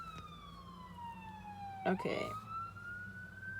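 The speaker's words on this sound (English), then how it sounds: "It is the new year, so that's why we hear the sirens." Emergency vehicle sirens wail on New Year's, a sweeping tone that falls and then rises again, moderately distant, with a brief voice and a nearby clatter in the middle.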